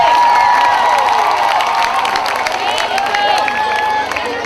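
Congregation applauding at a prayer gathering for Burundi and its leaders, a loud sustained wash of clapping with cheering and shouts from the crowd throughout.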